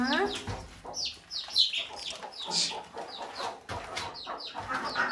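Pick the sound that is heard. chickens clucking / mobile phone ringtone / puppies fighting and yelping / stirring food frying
chickens clucking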